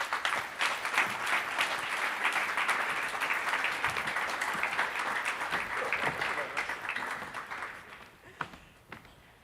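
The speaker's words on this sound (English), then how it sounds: "I think you have merited a big round of applause." A conference audience applauds a panel after a debate, loud sustained clapping that fills the room and then thins out and fades over several seconds.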